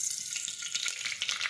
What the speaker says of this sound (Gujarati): હવે આપણું તેલ છે તે ગરમ થઈ ગયું છે। હવે આપણે તેમાં રાઈ અને જીરું નાખીશું